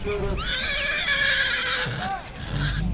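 Horse neighing loudly and close at an outdoor horse competition where teams harness horses and load carts, a long whinny with rising and falling pitch, followed by a shorter second call over background crowd noise.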